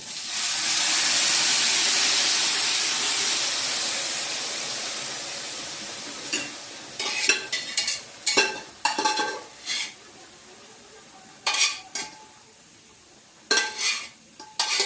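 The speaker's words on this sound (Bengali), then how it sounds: "এখন আমি সবজিটা অ্যাড করলাম।" Vegetables with fried shrimp hit a hot pan with a loud hiss that settles, followed by repeated scraping and clattering of a spatula stirring in irregular bursts up close.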